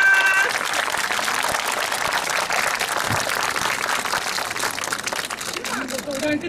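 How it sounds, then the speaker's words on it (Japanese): An outdoor crowd at a festival procession at castle ruins applauds, a broad sustained rush of clapping that stays loud and steady, with faint voices mixed in near the end. "皆様拍手をお願いいたします"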